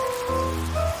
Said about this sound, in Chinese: 现在天空还下着大雨